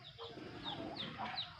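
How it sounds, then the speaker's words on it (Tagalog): Farm geese on a small provincial poultry farm honk in a few short bursts, faint and somewhat distant over a low background murmur. "Daming gansa kaparikoy."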